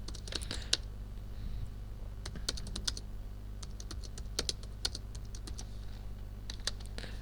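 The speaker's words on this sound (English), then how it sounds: "I try and type in and break in again" Rapid keystrokes on a computer keyboard, typed in quick bursts with short pauses between them, clicking up close over a steady low hum and no voices.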